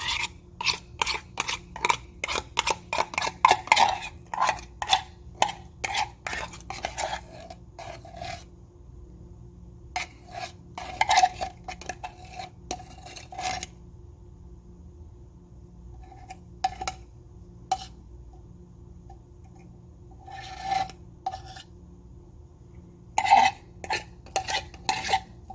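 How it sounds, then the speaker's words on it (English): A utensil scrapes thick, gloppy homemade ice cream mixture from a container, quick rasping strokes in bursts with short pauses between, close and fairly crisp, no voices over it. "I don't want to stand here scraping forever."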